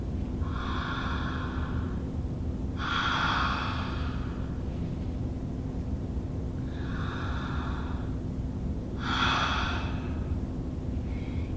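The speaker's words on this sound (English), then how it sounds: "Now let's try breathing only in and out through your mouth." Four slow breaths drawn in and pushed out through the mouth, each a soft airy rush with two close pairs of breaths spaced a few seconds apart, fairly near and alone over a steady low hum.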